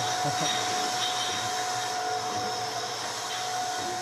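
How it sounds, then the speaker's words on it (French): A beer bottling machine runs with a loud, continuous mechanical whir and steady hum while filling bottles, a noisy operation heard close up throughout. "C'est la première fois que les frères utilisent cette machine à embouteiller."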